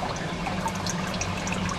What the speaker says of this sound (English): The pump's on now, so you can hear what's going on.